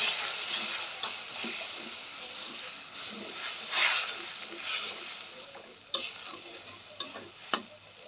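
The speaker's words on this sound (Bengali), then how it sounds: "এবার দেবো নারকেলের দুধটা।" Coconut milk poured into sizzling masala in a pan for prawn malai curry, with a bright frying hiss and stirring, plus a few sharp clinks of the spoon near the end, no talking.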